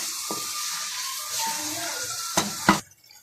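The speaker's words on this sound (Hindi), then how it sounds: "तो मसाले को फ्राई करते हुए मुझे तकरीबन 5 मिनट हो चुके हैं।" Spice masala with taro root (arbi) fries in a pan with a steady hiss, partly under a voice. A couple of sharp clanks come near the end before the sound drops away.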